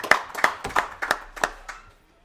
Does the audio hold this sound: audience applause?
yes